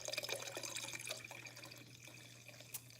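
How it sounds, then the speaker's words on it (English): Carbonated water pours into a beverage as a soft, steady fizzing trickle that fades toward the end, with a brief splash near the close and a low hum underneath. "And then you would just pour the carbonated water in the beverage."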